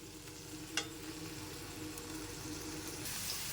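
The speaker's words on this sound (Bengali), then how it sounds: "কড়াইয়ে আমি আলু দিয়ে দিয়েছি আর হালকা নুন আর হলুদ দিয়েছি" Potatoes with salt and turmeric fry in oil in a wok, a faint, steady sizzle with a single small clink early on.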